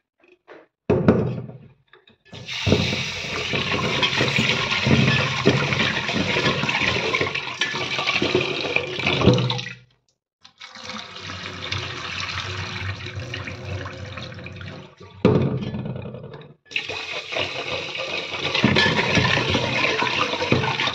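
Water from a tap runs strongly while items are washed under it, a steady splashing rush broken by two short pauses where the flow stops, then resumes just as loud.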